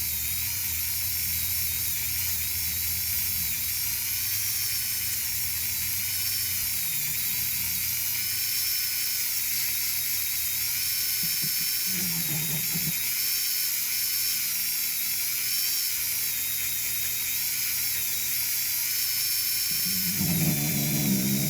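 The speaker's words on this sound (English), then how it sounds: "All I have is a Dremel 4000, an old Craftsman rotary tool" A Dremel 4000 rotary tool carving a Celtic trinity hearts piece, with a continuous high-pitched whine and buzz that wavers as the bit bites, plus a few brief lower-pitched grinding bursts from the workpiece.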